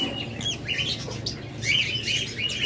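An orange-head opaline lovebird gives high, sharp chirps and squawks in a cage. Several short calls sound close and clear over a steady low background hum, with no speech.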